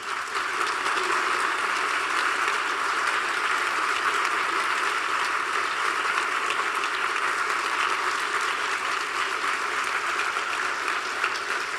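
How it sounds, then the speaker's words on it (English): Sustained, generous applause from a large audience at the close of a talk on design, a dense, even wash of clapping that stays loud and steady throughout without any speech. "very generous applause, thank you."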